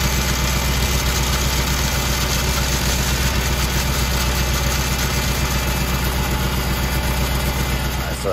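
A forklift engine idles nearby in a steady, loud, unbroken rumble with a constant low throb and mechanical clatter, and no voices.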